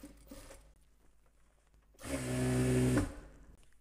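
A sewing machine stitches the waistband of palazzo pants, with a close, loud burst of about one second of steady motor whir and needle rattle after a quiet stretch, then it stops abruptly.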